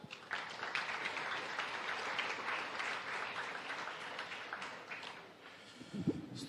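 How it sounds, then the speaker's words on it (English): At a science, innovation and development conference, an audience applauds Professor Beasley with continuous, even crowd clapping that sounds somewhat distant and soft, then thins out near the end. "Please join with me to give Professor Beasley a round of applause."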